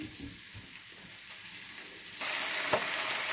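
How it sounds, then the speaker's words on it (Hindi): Chopped onions frying in a little oil in a pan make a steady close sizzle that suddenly grows louder and brighter partway through, with a brief clatter near the end. "तो इसको आप ऐसा करें कि ये जो प्याज हैं ये आप इसमें डाल दें"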